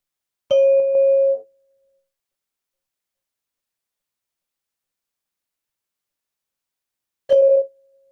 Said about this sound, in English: try to stay with the sound of the bell as long as it goes for